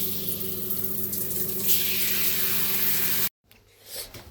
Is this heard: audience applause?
no